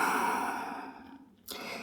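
One long, audible exhale followed by the start of a fresh inhale, close and fairly loud with a breathy rush, taken while resting in a yoga child's pose.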